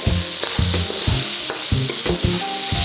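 Shiitake mushrooms, onions, garlic and ginger sizzle loudly in a wok, while a spatula scrapes and tosses them in a steady rhythm of close, repeated strokes over a constant frying hiss.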